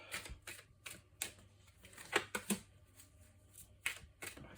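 Tarot cards being shuffled before a nine-card spread, heard as quiet, quick riffling clicks and flutters in uneven bursts, close to the microphone, with no talking.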